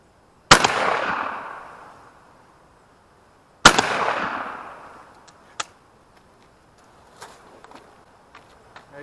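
A 20 gauge shotgun firing Dry Lock shells at a pattern target outdoors, two sharp loud blasts about three seconds apart, each trailing off in a short echo, followed by faint clicks and handling noises.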